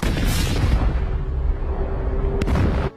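A bomb blast in an action film scene at a beach during a fireworks show: a heavy, close boom with a deep rumble that rolls on and fades over a few seconds, ending in a sharp crack.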